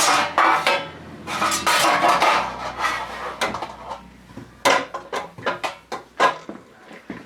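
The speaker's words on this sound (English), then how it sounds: "Okay, I put it into our cake pan." Thick blueberry banana bread batter scraped from a bowl into a cake pan, a run of close clinks, scrapes and knocks of utensil against metal and bowl, busy at first and then in sharper separate taps.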